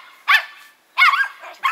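Several dogs bark while playing outdoors in snow, with three bursts of loud, close, yelping barks separated by short pauses.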